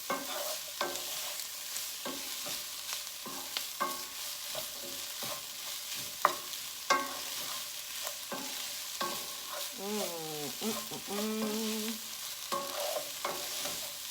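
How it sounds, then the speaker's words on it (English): Fajita seasoning cooks in a pot for turkey fajita white chili, with a steady sizzle under repeated scraping stir strokes. Nobody speaks; a brief squeaky whine sounds near the end. "so just cook the fajita seasoning just"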